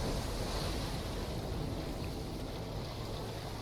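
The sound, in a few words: released water draining out in Darksiders video game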